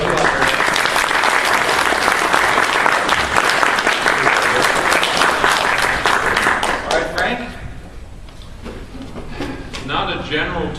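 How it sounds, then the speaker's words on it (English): A convention panel audience at GenCon breaks into loud, sustained applause from a large crowd, thinning out toward the end as a few scattered claps trail off. "How about a round of applause?"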